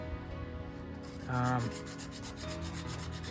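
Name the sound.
light sanding with 600 grit sandpaper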